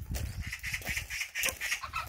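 A magpie chick that has fallen from its nest gives repeated harsh, scratchy cries, fairly close and loud, in short bursts of raspy calls.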